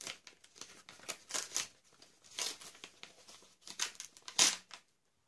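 Wrapping paper and heavily taped packing being torn and crinkled open on a Christmas parcel, a busy run of close, rustling rips and crackles in uneven bursts with no talking.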